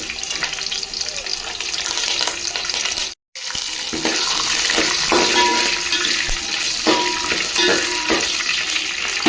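Green chillies and curry leaves crackle and sizzle steadily in hot oil with peanuts, chana dal and urad dal, a loud continuous frying hiss broken by a brief gap, with faint clinks of a ladle.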